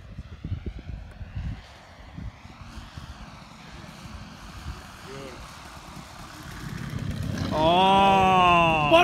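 A Vertigo 2M model airplane's engine at low idle drones faintly at first, then swells loudly as the plane sails past near the end, with faint voices in the background.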